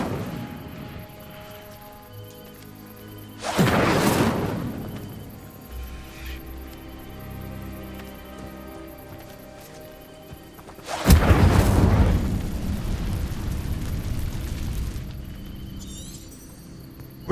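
In Hogwarts Legacy, casting the Incendio fire spell at dry vines sets off two heavy whooshing bursts of flame several seconds apart, each swelling loudly and fading into a low crackling roar amid quiet ambient game music.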